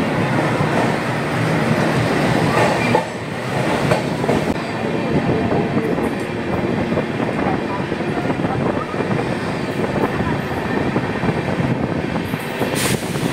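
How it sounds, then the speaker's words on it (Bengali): The Howrah Mumbai Mail pulls out of Nashik Road station, its wagons rumbling loudly with a continuous rolling roar and clickety-clack of wheels over rail joints, close by and sustained. "বিকেল 4:43 ট্রেন নাসিক রোড স্টেশন ছেড়ে তার পরবর্তী স্টপেজ ইগাতপুরি স্টেশনের উদ্দেশ্যে রওনা হলো।"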